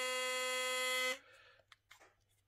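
A Philips Sonicare DiamondClean 9000 electric toothbrush runs with a steady, bright, buzzing vibration for about a second, then cuts off. Faint handling clicks follow in near-silence.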